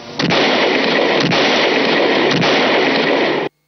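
Gunfire from the Hindi film Sholay: a dense, loud, continuous roar of shots with a few sharper cracks breaking through, ending abruptly.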